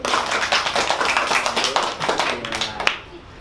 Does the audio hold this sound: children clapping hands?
yes